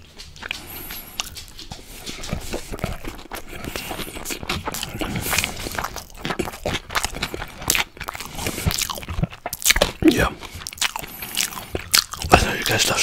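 Salmon and shrimp sushi rolls with cream cheese, sesame seed, onion and cucumber chewed up close, with repeated soft bites and wet, crunchy mastication running steadily for the whole stretch.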